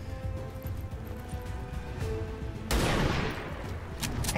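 Gunfire from XCOM 2 erupts as a sudden loud burst over the game's background music and ambience, with a broad crackling blast that rolls on and fades over about a second.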